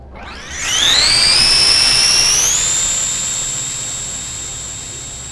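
Simulated propeller engine of an F4U Corsair with a three-blade propeller in the RealFlight simulator, a loud steady whine that rises in pitch after a second and then holds, alone with no talk.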